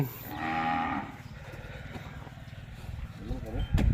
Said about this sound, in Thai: ตัวนี้เป็นวัวสาวเนาะพี่เนาะใช่วัวสาววัวสาว